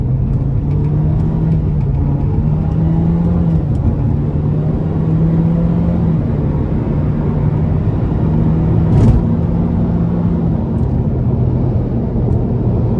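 A 2013 Nissan Juke SL with a 1.6 turbo four and CVT accelerates onto an interstate, heard from inside as a loud steady engine drone with rising and settling pitch over heavy road rumble.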